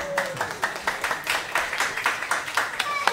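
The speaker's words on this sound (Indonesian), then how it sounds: "Tepuk tangan." Applause at an angklung competition in Yogyakarta comes as rhythmic, fairly quiet clapping, a group of hands striking together in regular beats at a moderate distance, with faint voices underneath.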